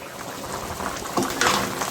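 Spicy crab gravy boils in a covered pot, giving a steady bubbling simmer with a few louder pops and splutters near the end, close and continuous with no talk.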